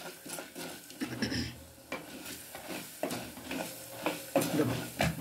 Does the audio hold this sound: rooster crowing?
no